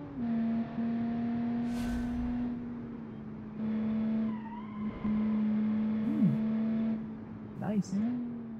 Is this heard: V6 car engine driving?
yes